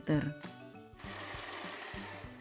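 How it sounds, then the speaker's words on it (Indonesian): A sewing machine runs steadily at close range, stitching a 10 cm wide black cotton border around a scrappy fence patchwork quilt top, a soft even mechanical whir after a short start-up with a few bumps. "Selanjutnya saya menjahit border dari bahan katun berwarna hitam dengan lebar 10 cm."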